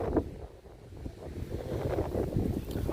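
Wind blows across a rice field at harvest time, a low, rumbling gust buffeting the microphone at moderate loudness, with no one speaking.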